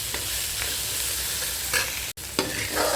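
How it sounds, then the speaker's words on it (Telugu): Cluster beans with chili powder frying in a pan, a continuous close sizzle broken by several scraping stirs and one abrupt momentary dropout midway. "కారం వేసుకున్న తర్వాత ఒక 2 నిమిషాలు ఫ్రై చేసుకుంటే ఆ పచ్చి వాసన అంతా పోతుంది"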